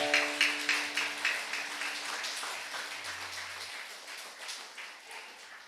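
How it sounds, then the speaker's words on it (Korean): Congregation at a church service claps for four people, a steady ragged patter of many hands in a room that fades gradually, with a faint tone lingering underneath. "우리 네 분을 위해서 우리 큰 박수 한번 부탁해 주시기 바랍니다"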